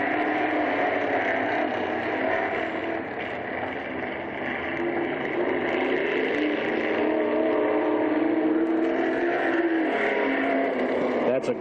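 Stock race cars circle Merrittville Speedway, and their engines form a sustained, loud roar that rises and falls a little as they pass. A commentator keeps talking over the racing noise throughout.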